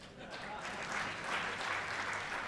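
Audience applause during a talk in Indore: a faint, dense patter of many hands clapping that swells slightly toward the middle of the short burst, with a hint of voices mixed in.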